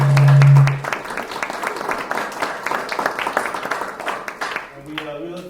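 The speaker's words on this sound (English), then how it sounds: "So we want to give them a round of applause and recognize them." Applause for volunteer youth soccer coaches at a county council meeting: broadband clapping from a modest indoor audience holds steady for about five seconds after a brief low tone, then tapers as a voice begins.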